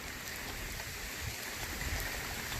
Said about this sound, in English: The palms love this kind of weather. Hot rain.